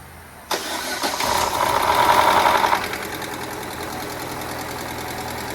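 A Chevy Cruze with a freshly replaced head gasket and valve cover gasket cranks briefly and catches, then settles into a steady, close idle with no voices over it.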